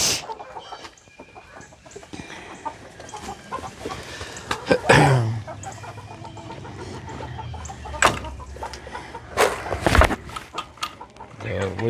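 Silkie and bantam chickens cluck and squawk in a backyard flock, with a few loud close squawks standing out over a continuous busy chatter of birds and occasional talk.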